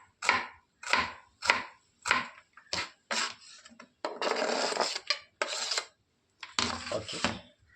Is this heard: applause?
no